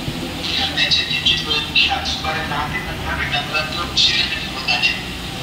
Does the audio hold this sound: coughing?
no